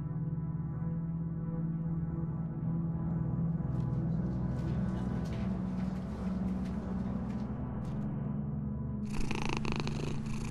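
Cat purring steadily and close, a continuous low rumbling drone, with some faint clicks and a burst of hiss near the end.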